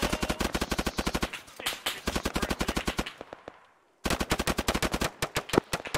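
Rapid bursts of automatic gunfire from an ArmA 3 firefight, loud and close with repeated sharp cracks, a brief lull near the middle, then another sustained burst.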